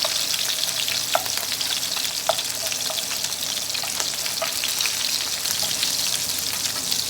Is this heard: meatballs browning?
yes